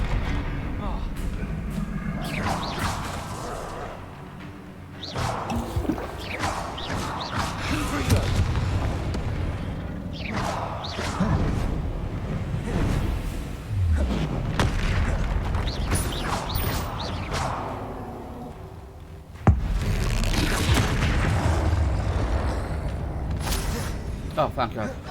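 Confringo blasting spells in Hogwarts Legacy burst in repeated booming explosions over a dense, chaotic battle din, with one sharp blast late on. A player talks loudly throughout.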